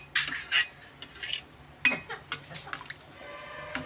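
Metal cooking pots and utensils in a Telugu home kitchen set aside after frying okra, with sharp clinks and scrapes in several short bursts, then a brief watery trickle near the end.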